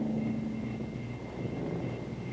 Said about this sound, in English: The search for a practical small helicopter has resulted in this experimental 2-place model powered by ram jets on the blade tip.